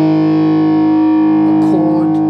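An electric guitar chord rings through heavy distortion with a Boss NS-2 noise suppressor, a loud buzzing sustain that holds steady, with a few scratchy string noises near the end.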